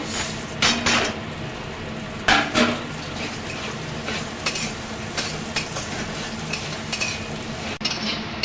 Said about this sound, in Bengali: আমি ডালটা এবার এই তেলের মধ্যে দিয়ে দেবো, ডালটা ভেজে নেব